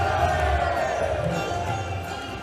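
Wrestling crowd in Manchester roaring and cheering at a live show, a dense, continuous wash of voices, loud and sustained with chanting swells.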